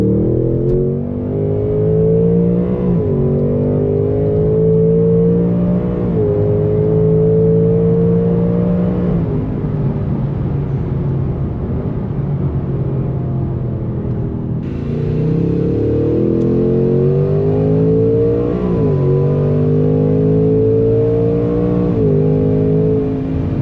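A 2026 Ford Mustang GT with its Coyote V8 accelerating on the road, the engine note climbing loudly through repeated rising pulls with brief dips at each gear change, steady and close with no talking.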